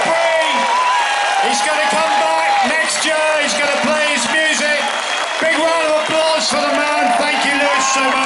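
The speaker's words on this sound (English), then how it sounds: "Big round of applause." Crowd at a British Grand Prix after-race party applauding and cheering, a dense, continuous wash of clapping with whoops and shouts throughout, loud and close.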